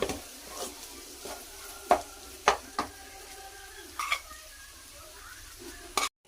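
Vegetables and rice are stirred and fried in a pan, with a soft steady sizzle under sharp, intermittent scrapes and clinks of a utensil against the pan, close and fairly quiet.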